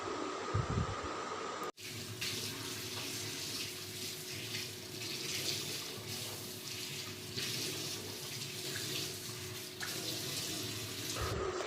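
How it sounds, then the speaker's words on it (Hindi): Teeth are brushed at a sink with the tap running, a steady close rush of water flowing the whole time after a short break near the start, with no talking. "तो अभी हम ब्रश कर लेते हैं।"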